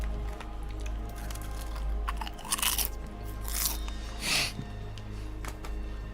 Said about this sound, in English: I'm eating chips right now.